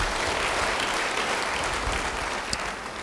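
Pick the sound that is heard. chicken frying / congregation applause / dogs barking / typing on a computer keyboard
congregation applause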